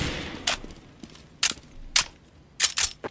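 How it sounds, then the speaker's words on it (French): Gunfire in the CS:GO video game comes as sharp, separate shots: one early crack, then single shots spaced across the clip, with a quick pair near the end over faint background noise. "t'as quelqu'un derrière toi là en fait qui tire dessus"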